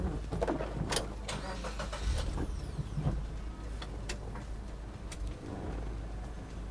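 Suzuki Carry minibus engine running steadily while backing up, a continuous low mid-range hum with a few sharp clicks and knocks over it, close and fairly loud throughout.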